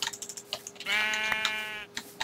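A sheep in modded survival Minecraft gives one drawn-out bleat lasting about a second, set against a steady patter of nearby computer keyboard clicks before and after.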